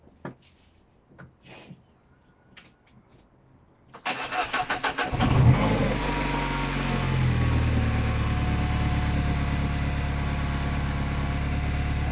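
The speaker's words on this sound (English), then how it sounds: "I'll leave it ticking over for a while now" Car engine cranking after a thick fluid has been poured into it, with a few clicks and knocks first, then a rapid churning start that settles into a steady, close idle ticking over until the end.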